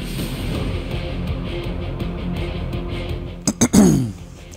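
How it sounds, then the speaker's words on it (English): A person clears their throat in two or three short, harsh bursts near the end, over a low, steady background of video game music and ambience from Final Fantasy VII Rebirth. "Sorry, got to clear my throat again."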